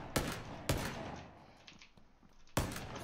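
Gunfire in a multiplayer shooter game comes as three sharp, loud shots spaced irregularly over a few seconds, with a low murky background between them and no talking.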